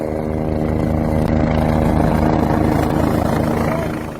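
A helicopter's engine and rotors drone steadily and loudly close by as it prepares to take off for a high-mountain rescue mission near Chamonix, a continuous dense whine with rhythmic blade chopping underneath.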